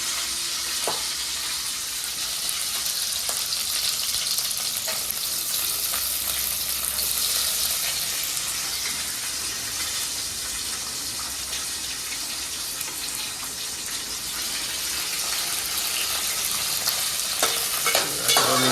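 Onions sizzle and fry steadily in a hot pan for Manchurian gravy, a continuous bright hiss with occasional stirring scrapes, close and fairly loud, with no talking.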